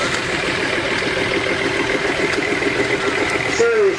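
Field Marshal Series 2 vintage tractor ticking over at a parade, a steady low engine idle with a regular thumping rhythm held at close range throughout, with faint crowd noise behind it.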